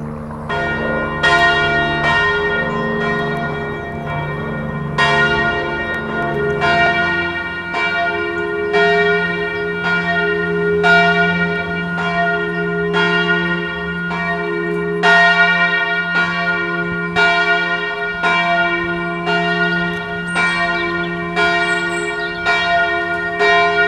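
Church bells in Muri peal continuously, with strong repeated strikes in a steady rhythm over a sustained ringing drone, loud and close with no voices.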